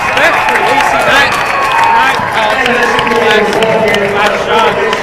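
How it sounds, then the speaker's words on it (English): Crowd applause and cheering fill a school gym on basketball senior night, a continuous loud roar of clapping with voices mixed in throughout. "a round of applause here in the gym for senior day for these seniors"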